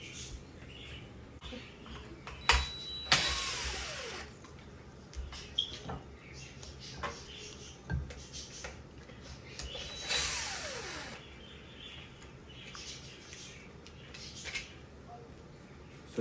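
T20 screws being backed out of a Bosch dishwasher wash pump: soft, close ratcheting creaks and clicks in uneven bursts, with a few sharper squeaks over a quiet room background.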